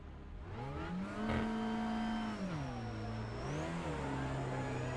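An Open Touring Car engine drones at the Brands Hatch pit exit in iRacing, its pitch climbing and dipping as a car accelerates past, steady and fairly close with no talking.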